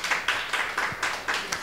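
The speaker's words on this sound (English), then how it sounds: "Come on, keep the applause going" An audience welcomes a speaker onto the stage with rhythmic, evenly spaced clapping, about seven firm beats in a row, moderately distant and fairly soft.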